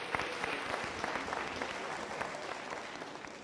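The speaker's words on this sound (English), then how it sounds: "Can we also give a big round of applause?" Audience at a university autumn graduation ceremony applauding, a dense, steady patter of many hands clapping together for the whole stretch without letting up.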